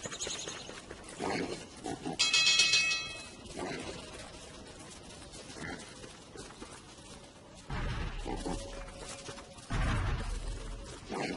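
A pig in the Don't Starve video game gives several short grunting snorts in separate bursts, loud and close, with bright game chimes and ambient music between.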